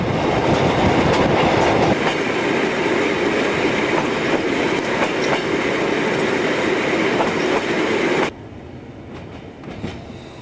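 Trans-Mongolian passenger train pulling into Ulaanbaatar station in 1993: loud, steady rumble of rolling railcars with rhythmic clickety-clack of the wheels, which cuts off abruptly into a quieter hush near the end.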